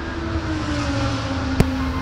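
A Mercedes-AMG GT3 race car in free practice at the Hungaroring sounds as a steady, loud engine drone at constant pitch, with one short sharp knock near the end and no voices.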